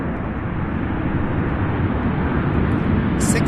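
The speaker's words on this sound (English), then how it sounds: "Southwest flight out of Midway." A 16-year-old Southwest Boeing 737-700 out of Midway, near Louisville International Airport, gives a steady, loud, broadband jet roar that fills the whole stretch without a break.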